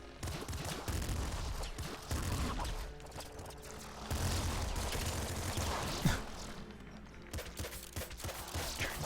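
Rapid gunfire and bursts of shooting in the top-down shooter Nuclear Throne, dense and continuous with booming impacts throughout, with no speech over it.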